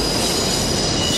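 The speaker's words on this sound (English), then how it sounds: "in the background, this train sound gets louder and louder and louder" Train sound effect from a tense restaurant scene in The Godfather: a loud, harsh metallic squeal of train wheels on rails with rumbling noise, continuous and close for a brief moment.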